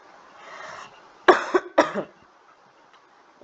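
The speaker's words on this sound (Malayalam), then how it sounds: "ഞാൻ ഈ ഇടയ്ക്കിടയ്ക്ക് ചുമക്കാണ്," A man with a cold coughs three times in quick succession, sharp and close, after a brief exhale in an otherwise quiet room.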